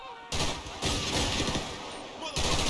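Dense bursts of automatic gunfire from a Grand Theft Auto V gunfight, loud and continuous across the clip with short gaps between volleys, plus a sharp crash-like crack near the middle.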